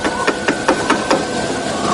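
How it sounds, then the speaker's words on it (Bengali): A door is knocked on for a horror story effect, with about six evenly spaced, sharp knocks in quick succession over a faint background hum. "তারপর দরজার গায়ে শব্দ উঠল,"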